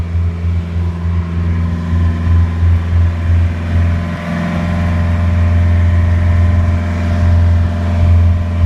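A sailboat's engine running under motor, heard from inside the forward V-berth: a steady, loud low drone with a throbbing hum that swells slightly partway through, with no voices.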